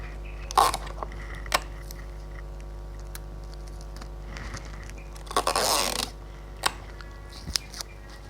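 Clear adhesive tape pulled from the roll and pressed onto a paper-money bouquet, two short ripping strips of tape standing out among small handling clicks and taps in a quiet room.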